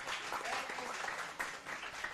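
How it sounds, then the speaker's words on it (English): An audience at a toxicology conference at Nirma University, Ahmedabad, applauds for a speaker named Veena: a short burst of soft, distant, evenly spread clapping. "Big round of applause for Veena."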